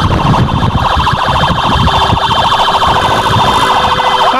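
An ambulance siren wails loudly and continuously at close range, its repeating rising-and-falling pattern steady throughout amid traffic noise while the vehicle pushes through congestion on an urgent patient run.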